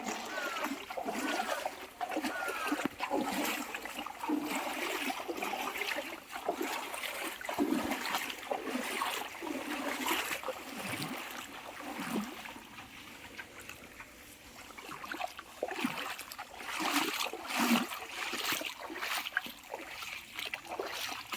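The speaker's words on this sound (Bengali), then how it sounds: "চারিদিকে পানি স্রোত শুধু" Floodwater rushing and splashing in Chandpur, a continuous turbulent wash of flowing water with irregular splashes and surges close by, lasting throughout.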